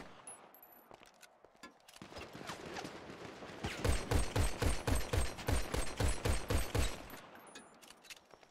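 Gunfire in a GTA roleplay video game, sparse shots at first, then a loud, close rapid burst of evenly spaced automatic shots lasting about three seconds before fading to quieter ambience.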